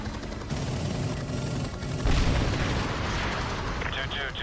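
Heavy artillery gunfire in Call of Duty Modern Warfare 2 Remastered, dense rumbling booms and blasts rolling continuously, loud and close, with radio voices over the barrage.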